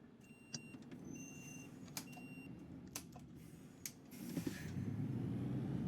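Mercedes-Benz Citaro bus in the OMSI 2 simulator gives a low engine hum under scattered creaks, clicks and brief mechanical tones, and the engine noise swells louder near the end.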